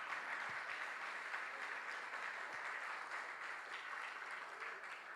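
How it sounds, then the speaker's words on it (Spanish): A church congregation applauds, a steady distant wash of many hands clapping that holds evenly for several seconds. "dale un aplauso al Señor"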